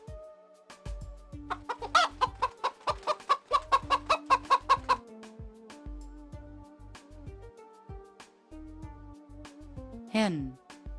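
A rooster crows amid rapid, rhythmic clucking from fowl, with a sharp squawk near the end; a voice speaks briefly over the farmyard sounds.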